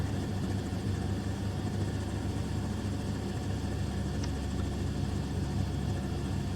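Robinson R44 helicopter engine in a flight simulator game, a steady, unbroken droning hum with a low rumble that holds an even loudness from start to finish, with no one talking.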